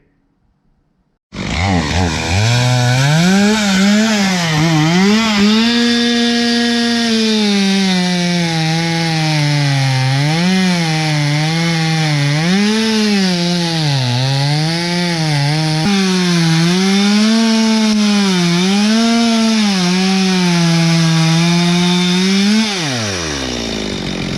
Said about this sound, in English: we're going to go out and test out this chainsaw